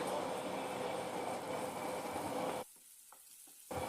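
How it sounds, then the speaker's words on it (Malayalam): Dried prawns fry in coconut oil already used for frying chillies, a faint, even hiss that drops away briefly before returning, with no voices. "ഇനി നമ്മുടെ ചെമ്മീനെ നമ്മൾ മുളക് വറുത്ത അതേ വെളിച്ചെണ്ണയിലേക്ക് ഇട്ടിട്ട് നന്നായിട്ടൊന്ന് വറുത്തെടുക്കണം"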